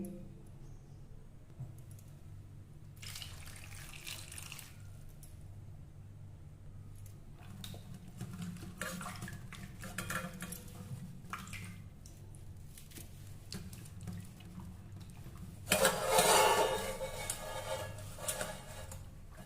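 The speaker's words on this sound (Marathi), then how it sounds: "मग त्यासाठी मी ही केळी मी पहिल्यांदा धुवून घेते" Quiet splashing and trickling water come in short bursts as bananas are washed, with soft handling sounds, ending in a louder, closer rush of water.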